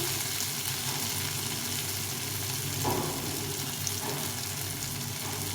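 Chopped onion and tomato fry in a pan with a steady, close sizzle, broken only by a few faint stirring scrapes.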